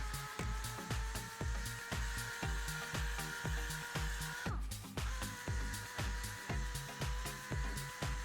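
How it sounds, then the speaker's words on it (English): A power sander whirs steadily on wooden cone-shaped furniture legs, its pitch pulsing in a regular rhythm, close and continuous, with a brief change in tone partway through. "I'm going to continue quickly sanding these."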